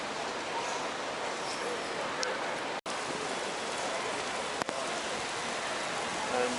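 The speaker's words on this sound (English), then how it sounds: "believe it or not, it is starting to rain" Rain starting to fall in London beside Queenstown Road: a steady, dense hiss of drops on surfaces, fairly faint, with a couple of sharp clicks.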